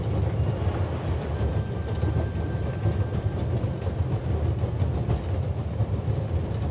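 Freight wagon rolling along the rails in the video game The Raven Remastered, a steady low rumble with faint rhythmic clatter throughout, loud and continuous with no voices.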